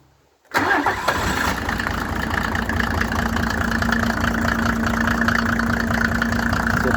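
A Mercedes 603 3.0 diesel engine on an irrigation pump station cranks and catches after a brief silence, then settles into a steady, even idle with a low rhythmic knock, close and loud.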